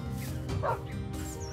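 A dog in Minecraft gives a few short yips and soft barks against a low, steady background hum.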